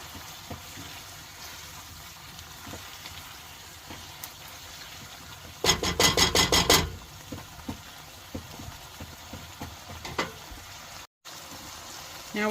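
Basil stirred into a sizzling pan, a steady low fry hiss with a burst of loud scraping stir strokes midway, then quieter intermittent clinks and sizzle.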